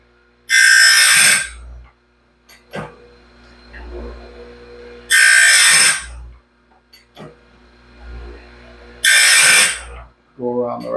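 A red sharpening stone grinds a sawmill band blade in three loud, rasping strokes about four seconds apart, with quieter scraping and tapping between them.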